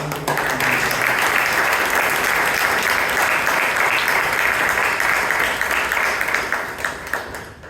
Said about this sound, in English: So can we have a round of applause for Chirag?